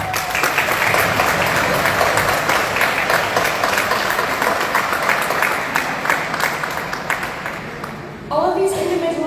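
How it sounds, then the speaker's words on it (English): Audience applause at an annual association awards ceremony, a loud sustained round of clapping that fades slightly before a brief pause and a final swell. "Please give them one final round of applause."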